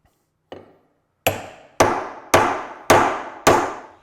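One light tap, then five firm hammer strikes at an even pace, each a sharp, close knock that rings briefly into wood, as a hammer taps a metal planing stop into a wooden workbench.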